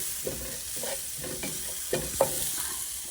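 Spices with turmeric (haldi powder) fry in a pan on low-medium heat, a gentle sizzle under repeated scraping stirs of a utensil, several distinct strokes in quick succession.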